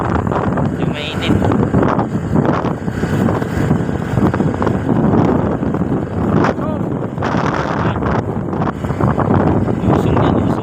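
A motorized bangka engine drones steadily out at sea while strong wind buffets the microphone. The engine stays loud and continuous the whole time, with no pauses.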